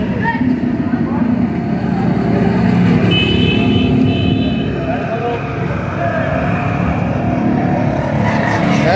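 A Power 640 tractor's engine runs continuously at close range, a loud steady rumble throughout as the tractor is loaded onto a truck.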